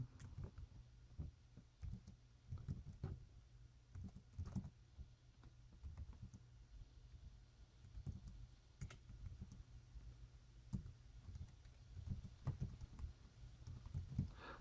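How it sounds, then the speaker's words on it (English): Typing on a Rii K12BT mini wireless keyboard with touchpad, its cramped keys giving quiet, irregular soft clicks and taps close by, over a low steady hum with no talk. "we can start typing"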